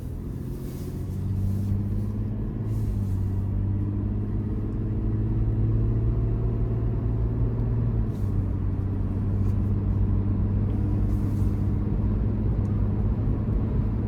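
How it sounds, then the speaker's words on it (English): 2023 Toyota 4Runner SR5 with a 270-horsepower V6 accelerating on the road, a steady low engine drone with rising tones, heard from inside the cabin and mixed with road rumble. "So acceleration in this 4Runner is pretty decent."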